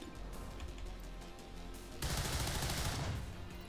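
Gunshots in XCOM 2 during a sewer mission, a single sharp volley bursting out midway over a low game ambience, fairly quiet overall.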